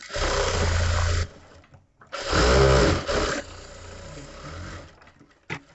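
A domestic sewing machine runs in two bursts while stitching a katori blouse, a steady motor whir with rhythmic needle chatter, close and loud, with quieter handling pauses between.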